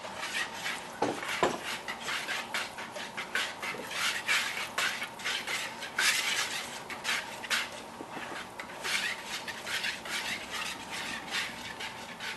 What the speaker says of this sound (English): you just want to keep mixing it till it gets a nice smooth texture